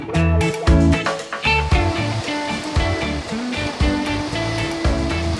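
Ocean surf washing against an island shore, a steady broadband rush of breaking waves that stays loud throughout, with tonal music playing over it.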